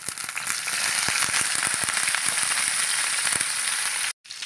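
Curry leaves and ginger sizzle loudly in hot frying oil with fenugreek, a dense close crackling hiss with sharp pops throughout, cut by a brief silence near the end.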